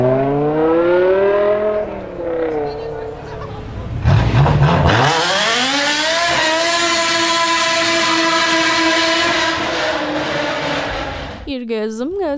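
A BMW M sports sedan engine revs loudly and climbs in pitch, then holds a high, steady wail close by, ending with a short sharp blip of the throttle.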